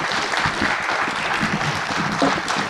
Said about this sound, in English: let's give Dr. Susan Powers and his panel another big round of applause for an excellent discussion